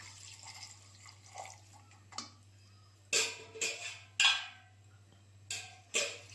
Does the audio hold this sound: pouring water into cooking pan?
yes